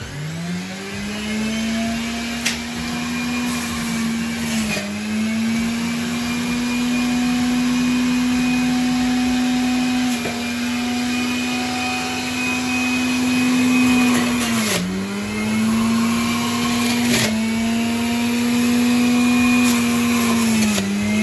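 A juicer grinds carrots, radish and ginger with a loud, steady motor whine that dips briefly in pitch a few times as pieces feed in, running continuously without speech.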